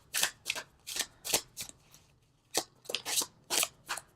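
Tarot cards being shuffled by hand, a run of crisp riffling bursts in quick succession, a short pause, then more riffles, close and fairly quiet with no talking.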